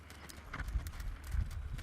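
Hooves of a horse at a jog thud in a steady rhythm during lead-change training, heard fairly close with some low rumble.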